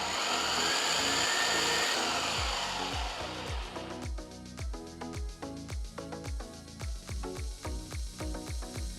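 A mixer grinder blends chutney of ginger, green and dried chilies and jaggery, giving a loud, close whirring roar for about four seconds over background music before cutting out and leaving only the music.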